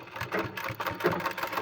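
A sewing machine stitches decorative design work on palazzo pants, making a quick, rhythmic clatter of needle strokes. The pulses are close and moderately quiet, in one short burst.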